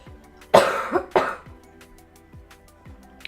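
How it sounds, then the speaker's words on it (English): Two loud, harsh coughs close together from a sick person, followed by softer throat sounds and quiet breathing. "Almost coughed into my hand."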